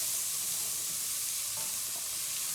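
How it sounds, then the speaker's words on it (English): Vegan bolognese being tossed and stirred in a pan, a continuous bright hiss of sizzling with faint scraping movements beneath, close and steady throughout. "We're still tossing this in the pan."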